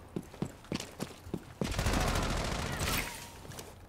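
Rainbow Six Siege gunfire: a string of sharp single shots in steady rhythm, then a sustained loud burst of automatic fire that trails off, with players talking over it.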